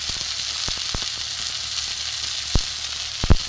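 Chopped green chillies and other ingredients sizzling in hot oil in a pan for an egg and brinjal roll, a steady close hiss with a few sharp pops and stirring knocks.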